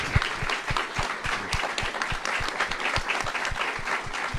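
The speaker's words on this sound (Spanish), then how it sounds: "les pediría un aplauso para el señor Ricardo" Audience applause for Ricardo Bravo after an interview about the history of punk in Mexico: moderate, steady clapping with distinct individual claps audible throughout, no speech.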